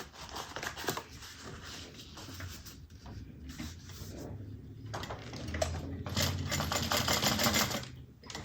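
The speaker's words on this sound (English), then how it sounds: "we're going to fold that seam allowance down toward the lining and top stitch" A sewing machine runs close by while top stitching the seam of a fabric clutch bag, a steady rapid mechanical whirr and clatter in stretches separated by short stops.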